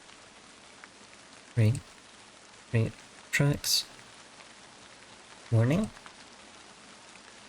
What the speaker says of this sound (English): Rain fell in drops from the grey sky.